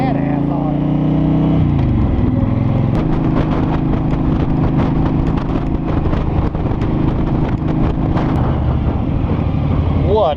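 A 2017 Honda Fury motorcycle rumbles steadily and loudly throughout a test ride, its engine note close and continuous beneath wind noise and scattered clicks.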